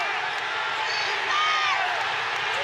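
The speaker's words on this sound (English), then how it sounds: "You can feel the crowd coming in now." A basketball arena crowd at a FIBA Asia Cup game between the Philippines and New Zealand swells into a roar of cheering and whoops, loud and continuous throughout, with a few sharp shouts rising above the mass.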